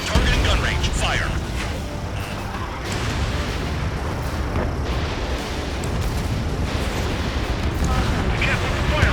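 A burning pipeline explosion in Ace Combat 7, a dense, continuous roaring blast and fire rumble that stays loud and steady throughout, with combat radio voices talking faintly over the din.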